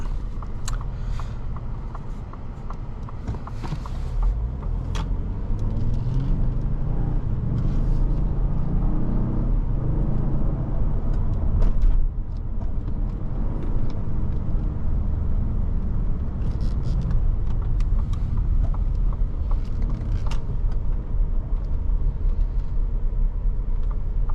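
Inside a 2022 Lincoln Navigator L Reserve on the road, a low, steady engine and tyre rumble holds throughout, rising slightly in the middle, with no talking.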